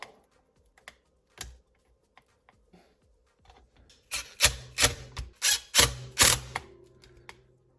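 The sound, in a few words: popping out D-block on Arrma RC car bumper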